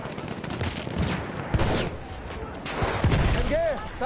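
Rapid machine gun fire in a video game crackles through a busy, noisy mix, with heavier bursts around the middle and end, while voices talk over the shooting.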